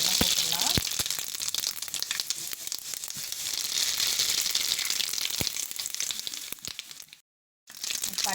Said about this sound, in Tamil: கடாய் வச்சு எண்ணெய் ஊற்றிட்டோம். எண்ணெய் காஞ்சிடுச்சு. இப்போ இந்த பட்டைக்கு தாளிக்கிறது வேண்டியதெல்லாம் போட்டுடலாம்.